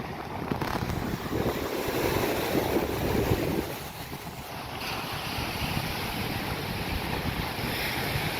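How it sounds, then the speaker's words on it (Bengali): Strong wind buffets the shore at Marina Beach in Chennai, a steady roaring rush over breaking surf, louder at first and then settling into a constant blustery wash with no voices. "আজকে হাওয়ার স্রোত খুবই বেশি।"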